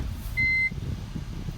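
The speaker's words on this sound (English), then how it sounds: "And you probably would have heard those beeping noises." A single short electronic beep from a car's reversing sensor rings out over a low rumbling engine-like background.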